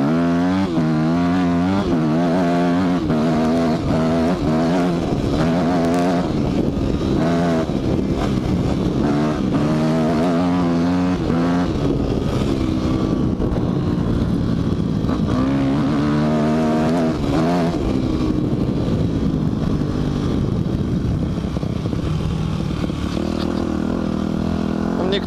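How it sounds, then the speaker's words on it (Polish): A 2002 Yamaha ZT250 four-stroke enduro motorcycle is ridden off-road, its engine droning steadily close by, rising and falling in pitch as the rider throttles up and eases off throughout. "Jesteśmy na pokładzie Yamaha ZT250 2002"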